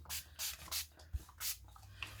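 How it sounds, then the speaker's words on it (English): Water spray bottle misting book pages: several short hissing spritzes in an uneven rhythm, close and soft, with faint rustling between them. "just give it a little bit of a spray with some water bottle"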